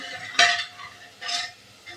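Mutton pieces coated in oil and masala are stirred in a pan, with three short, close scraping strokes separated by quiet gaps.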